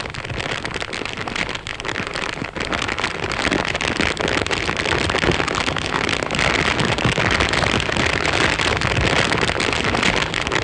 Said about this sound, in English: the sugar harvest, which starts with the burning of the cane fields